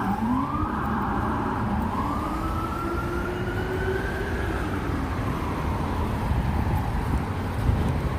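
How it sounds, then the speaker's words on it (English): A police car siren wails on a New York City street in the Upper East Side at night, a rising and falling tone that carries loudly over steady traffic noise. "And a police car."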